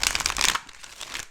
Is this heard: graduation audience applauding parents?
no